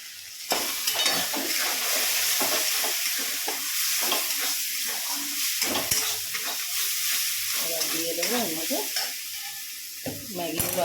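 Maggi noodles with chicken and egg sizzle in a hot pan as a utensil stirs and scrapes through them, the frying steady and close throughout.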